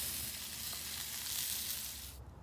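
Sausage sizzling in a hot pan of beans over a campsite fire, a steady loud frying hiss that runs alone for two seconds, then drops away abruptly near the end.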